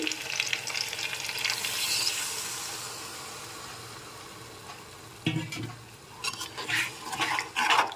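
Chili chicken masala is stirred in a pan, with a soft steady sizzle, then scraping spoon strokes that rise in bursts near the end, close and unaccompanied by talk.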